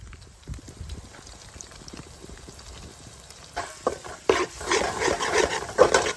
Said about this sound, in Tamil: வெங்காயம் தக்காளியெல்லாம் வதங்கிருச்சு இப்போ காரத்தூள் சேர்த்துக்கலாம்